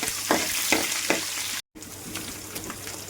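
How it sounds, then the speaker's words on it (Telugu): Chopped onion and green chillies with curry leaves sizzle in hot oil as a tempering for ivy gourd curry. A steady close sizzle is broken by a few stirring scrapes, with a brief silent cut midway and no talk. "ఉల్లిపాయ, పచ్చిమిర్చి కూడా వేసుకోవాలి ఆయిల్లో."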